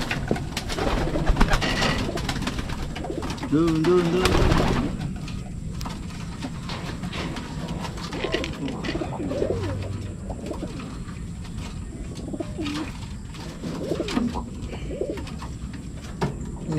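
Pigeons coo low and throaty, repeatedly and close by. A scuffle or flutter comes near the start, and steady ambient noise runs underneath.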